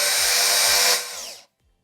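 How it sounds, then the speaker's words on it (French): A cordless screwdriver drives a screw into wood for one short, steady high-pitched whir that winds down and stops after about a second and a half. "il faut voir si on peut y accéder avec une visseuse sans fil"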